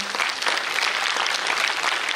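A crowd at a kirtan performance claps steadily and loudly, a dense wash of applause that continues without pause from start to finish.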